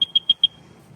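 A small electronic beep from a water-tested Facebook Marketplace purchase sounds four times in quick, even succession, short high tones roughly a sixth of a second apart, then falls silent over faint low background rumble.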